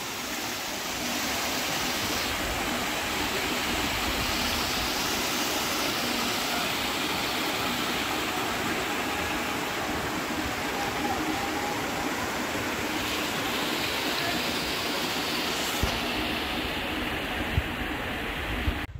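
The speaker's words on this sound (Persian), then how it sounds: "الان پشت آبشارم." A dense, even roar of falling water from behind Semirom waterfall in Isfahan Province, Iran, fills the air close by, steady and loud throughout with no speech.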